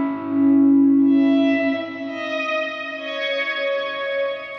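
Electric guitar played through an Axe-Fx II with a heavily washed-out main reverb: a sustained chord swells and blooms into a long, smeared shimmering tail.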